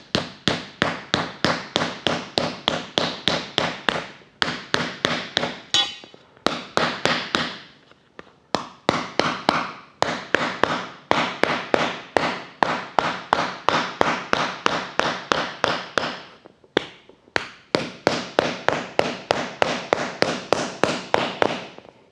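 Stainless steel trim struck repeatedly with a hammer against a soft sandbag, a long run of sharp, fast metallic taps in steady bursts with brief pauses between them, close and loud.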